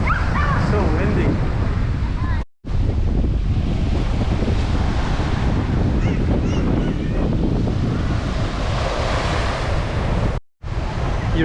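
Strong wind buffets the microphone by the sea at Bohol in the Philippines, a loud, continuous roar mixed with surf and broken by two short dropouts, with people talking underneath.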